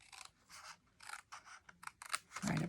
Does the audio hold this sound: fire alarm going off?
no